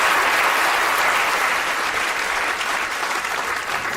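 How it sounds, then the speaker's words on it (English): Audience applause fills the room in a steady, dense wash of clapping from many hands, loud and sustained throughout. "Give them a big round of applause for keeping track there."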